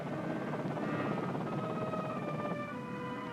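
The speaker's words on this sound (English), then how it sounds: "Marines arrive in helicopters from Navy carriers at sea, sealing the approaches to the beachhead." Military helicopters in an old 16mm film soundtrack, a steady blended rotor and engine drone with wavering tonal whine, continuous and fairly loud, no voices.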